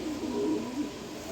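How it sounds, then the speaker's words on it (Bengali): A yellow German shield pigeon coos in a brief, soft, low-pitched throaty burble that swells and fades once, close by. "এখানে এক পেয়ার এই জার্মান শিল কবুতর আছে, ইয়েলো কালার"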